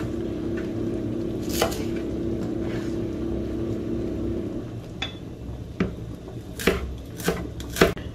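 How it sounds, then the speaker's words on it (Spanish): Spring onion and parsley chopped finely with a knife on a board for a Spanish potato omelette, a few sharp separate cuts near the end over a steady low hum, no talking. "vamos a cortar una cebolleta pequeña y un poco de perejil"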